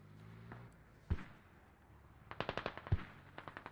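Mortar fire in a military video game, faint distant thumps followed by a quick rattling series of sharp reports, quiet and far off.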